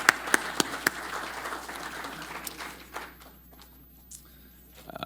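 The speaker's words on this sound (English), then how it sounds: "So a round of applause for our sponsors," An audience at a business chamber luncheon gives a short round of applause for the sponsors, a few sharp claps at first that quickly thin out and fade to near quiet.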